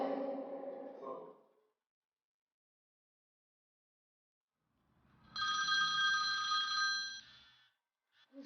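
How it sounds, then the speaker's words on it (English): Telephone ringing in a computer-animated film: a bright electronic ring that starts after a brief voice and a silent gap, holds steady for about two seconds, then fades. "Who's that? Phone."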